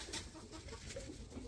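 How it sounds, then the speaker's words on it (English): A rooster near the nest boxes in a chicken coop, giving soft low clucks in a short irregular run, faint and somewhat distant against background noise, no talking. "Here's another rooster."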